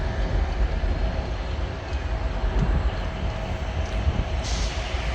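Steady rumble of a train at Manchester Piccadilly station on an overcast day, a continuous broad low-frequency drone with faint higher hiss, loud and constant throughout with no talk.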